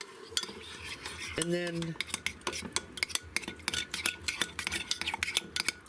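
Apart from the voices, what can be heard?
stirring cucumber salad with pepper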